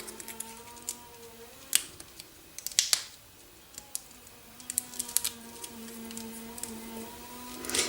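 Small foam adhesive pads are peeled from their backing while making a card, giving a few close, sharp crackling pulls and taps separated by quiet gaps.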